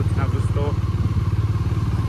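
A motorcycle engine idles nearby in a steady, throbbing pulse, loud and close, while someone talks over it briefly.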